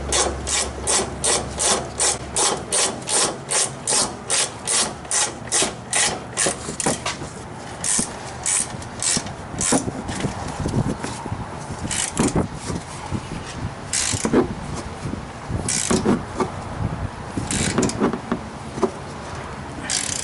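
A ratchet clicks in fast, steady strokes while the upper strut mount nuts are started on a Ford F-150 during a front leveling kit install. Irregular metallic clicks and handling noises follow, close and fairly loud.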